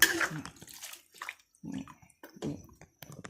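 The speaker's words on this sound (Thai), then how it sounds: "เติมน้ำไปอีกนิดนึง" Water is poured into a pot of cooking food in a kitchen, heard close as several short splashing bursts separated by quiet gaps.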